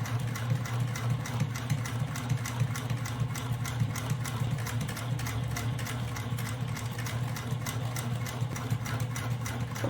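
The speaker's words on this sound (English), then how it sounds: "I'm gonna back stitch and then move the fabric, and then I'm gonna start to stitch all the way down again" A sewing machine stitches fabric for a hobo bag, including back stitching, with a steady, even mechanical hum and rapid needle chatter running continuously up close.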